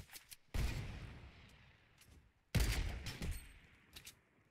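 Two loud gunshots from Fortnite gameplay, each a sharp blast with a fading tail, the second about two seconds after the first, with quieter game noise between.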